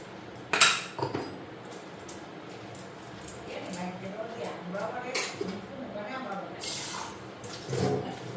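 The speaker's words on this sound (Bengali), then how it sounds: "এখন এদিকে বাসনগুলি ধুয়ে নিই।" Dishes, pots and pans, including a wok-style kadai, clink and clatter during washing up, with sharp bright knocks and scraping over running water, while a person talks throughout.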